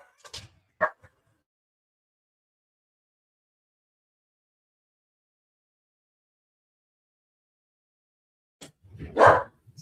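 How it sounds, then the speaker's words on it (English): A dog barks nearby: a short burst of barking near the start, long silence, then a louder, fuller bark at the end. "sorry, that's my dog"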